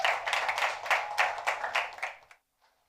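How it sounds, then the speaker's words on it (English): Applause from a small audience at an evening startup pitch event, a couple of seconds of close, fairly loud clapping that stops abruptly. "A round of applause."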